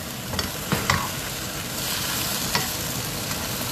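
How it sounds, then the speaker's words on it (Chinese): Ayam Merah Pedas, a sweet-and-sour chicken dish, sizzles continuously in a pan while being stir-fried, with a few scraping stirs of the utensil near the start and again around 2.5 seconds; no one talks. "有时我听到妈咪炒菜的声音，我觉得很疗愈"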